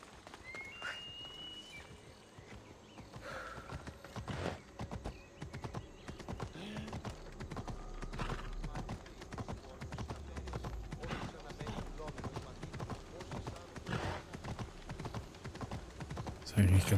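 A horse clip-clops at a steady trot in Assassin's Creed Odyssey, a long unbroken run of quick hoof strikes over a faint game background, with a voice talking at times.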